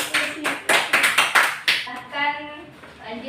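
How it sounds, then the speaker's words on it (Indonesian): Classroom students clapping for a presenting group, several sharp bursts of applause in quick uneven rhythm, then fading as a voice begins speaking. "Beri tepuk tangan untuk temannya."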